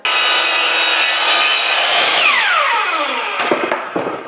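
A power saw screams loudly through wood for a few seconds, then winds down with a falling whine, followed by a couple of soft knocks.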